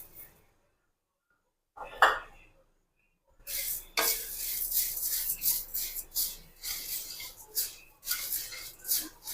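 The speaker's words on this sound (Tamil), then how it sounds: "நம்ம இந்த பொரியை லைட்டாக வறுத்துக்கலாம்." Puffed rice dry-roasted in a hot kadai for a snack, with a few scattered clinks and then a steady run of rustling, scraping stir strokes against the metal, close and fairly loud, with no talking.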